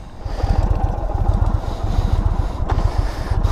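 A 2022 Indian Chief Bobber motorcycle engine rumbles steadily and loudly up close, a dense low throbbing pulse that holds without pause.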